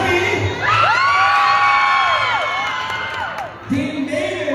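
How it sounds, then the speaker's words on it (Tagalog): A fan-day crowd cheers and shouts for a team, with high whoops and children's yells sustained across the clip, loud and close, then a fresh burst of shouting near the end. "Sino man malakas palakpak at sigawan"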